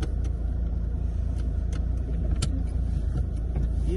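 A car pulls away slowly in first gear on a winter driving course, a steady low engine hum with faint clicks and road noise inside the cabin.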